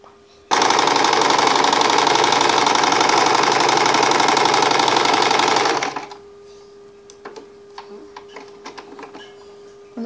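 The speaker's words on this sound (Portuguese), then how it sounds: "Quando eu começar a costurar" A sewing machine stitches a costume hood for a jumpsuit in one loud, fast, continuous run of close needle clatter that starts abruptly and stops after about five seconds, followed by quiet handling clicks.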